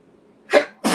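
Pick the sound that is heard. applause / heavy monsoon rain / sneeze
sneeze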